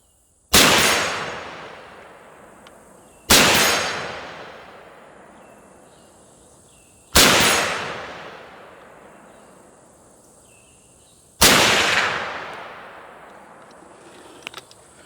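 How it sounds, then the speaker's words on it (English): Four sharp rifle shots from an M1 carbine fired at a target about 70 yards away, each a loud crack with a long decaying echo, spaced roughly three to four seconds apart on an outdoor range. "if you've ever thought that the M1 carbine is not an accurate rifle, then we need to go down there and take a look at what I just did"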